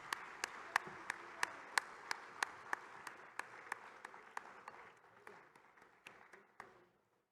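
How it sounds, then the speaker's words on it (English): Applause from a conference audience during a group photo, fairly faint, with sharp individual claps standing out in a steady rhythm over a soft wash of clapping that thins and fades toward the end. "while the group picture is being taken, let's give them a bigger round of applause."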